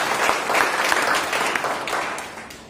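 A church congregation applauds at a Jakarta gathering, a dense, steady wash of many hands clapping together that holds for the whole stretch with no voices rising above it.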